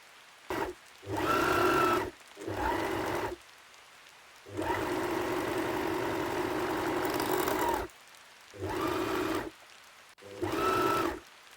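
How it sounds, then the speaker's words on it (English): An overlocker hums in five separate runs while hemming the sleeve and front and back bodice of a stretchy T-shirt, with short bursts and one longer steady stretch, close and fairly quiet, with no talking. "Overlock the sleeve hem and the front and back bodice hems."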